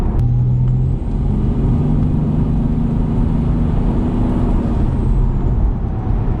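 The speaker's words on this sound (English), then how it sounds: "roll into it now, and it shifts down pretty quick" Lexus IS200 with an automatic gearbox accelerating hard, engine drone loud and steady inside the cabin, with a clear gear change early on as the box kicks down and pulls again.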